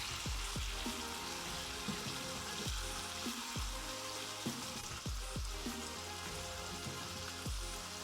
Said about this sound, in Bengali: মশলাটা অলমোস্ট কষানো শেষ